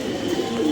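Pigeons feed on scattered grain, their soft throaty cooing and rustling forming a steady, close murmur with no talk.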